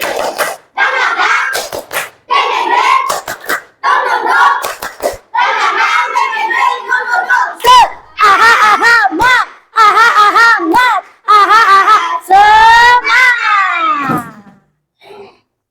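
Children in a Year 4 classroom chant the rhythmic 'tepuk semangat' clapping routine together, bursts of clapping and shouted syllables alternating in a steady, loud pattern, with a teacher's voice leading between phrases.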